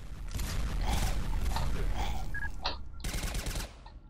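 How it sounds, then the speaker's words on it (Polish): Rapid automatic gunfire in a Zombieland zombie-shooting video game rattles in dense bursts, pauses briefly, then resumes in another fast volley before cutting off. "Taktyka totalnego spamerskiego strzału."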